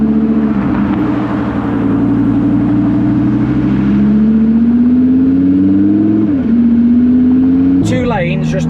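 A daily-driven 1200hp twin-turbo Lamborghini pulls hard, its low engine drone climbing steadily in pitch under conversation, then dipping briefly before rising again near the end.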